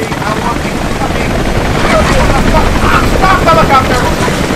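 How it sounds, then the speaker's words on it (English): A helicopter in the video game Rise of the Tomb Raider gives a loud, steady rotor roar that fills the whole stretch, with rough bursts that could be gunfire over the top. "stop helicopter!"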